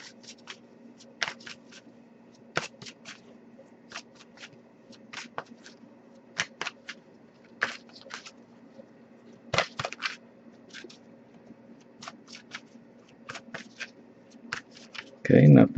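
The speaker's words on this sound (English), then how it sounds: "I'll give it a few more shuffles" Intermittent crisp snaps and riffles of tarot cards being shuffled, scattered bursts over a quiet room tone, with a louder thump at the end.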